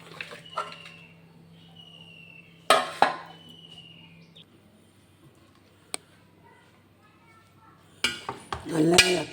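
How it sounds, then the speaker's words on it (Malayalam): Beef being stirred in a metal pressure cooker in a home kitchen: sharp clanks and scrapes of a spoon against the pot come in short bursts, separated by quiet stretches with a low steady hum. "നല്ല ഇളക്കി മിക്സ് ചെയ്യാം നമുക്ക്."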